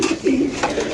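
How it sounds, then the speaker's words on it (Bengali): Pigeons coo at a Bangladeshi pigeon market where Rampuri and other breeds are sold in pairs, giving close, repeated low throaty calls with no talk over them. "এখানে আছে আরেক জোড়া কবুতর।"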